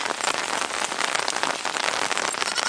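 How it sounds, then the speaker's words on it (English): Steady rain patters densely on surfaces outdoors near penned goats, a close, even hiss with fine crackling drops throughout and no voices. "The rain won't hurt you."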